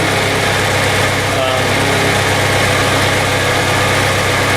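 A Chevrolet S10 pickup truck engine with a newly replaced head gasket idles steadily and close by, a continuous low rumble with an even mechanical drone that holds without change throughout.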